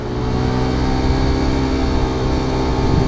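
A 200cc motorcycle engine revs hard and steady at 7000 RPM, a loud, dense, sustained buzzing roar heard up close with no one speaking.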